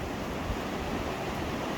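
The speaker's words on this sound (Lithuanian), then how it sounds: "Apačioj teka Jamuna." Yamuna river rushing below a mountain path at the start of the Yamunotri pilgrimage trail, a steady broadband roar of flowing water mixed with wind, continuous and even throughout.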